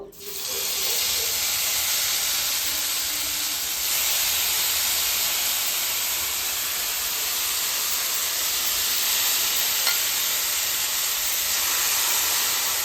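Taro leaves hit a hot kadai for a hilsa fish recipe and give off a loud, steady steamy hiss that starts abruptly and holds evenly for over ten seconds, with no talking.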